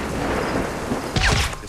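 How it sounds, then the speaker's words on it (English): A thunderstorm in the video game Assassin's Creed Rogue, heard as a broad, rumbling wash of rain and thunder that swells briefly louder near the end, with no speech. "The storm's getting worse."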